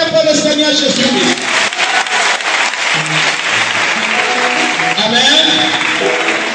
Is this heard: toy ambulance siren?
no